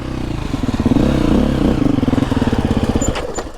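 A KTM 350 dirt bike engine revs on snow, a loud, close, rapid pulsing drone that swells and eases in quick cycles.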